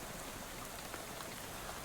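Soft, steady rainfall in the video game Shadow Over Loathing, a faint, even patter with no speech over it.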